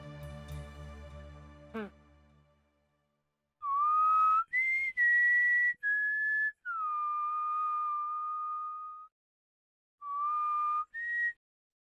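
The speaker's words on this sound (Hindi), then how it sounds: "इस तरह की सीटी कोई औरत भी बजा सकती है।" A woman whistles a tune in clear, sustained notes with pitch glides and short pauses, heard alone after a brief low rumble at the start, in a scene from a CID crime drama.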